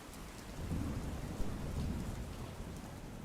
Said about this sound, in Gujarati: જે રીતે વરસાદ વરસી રહ્યો છે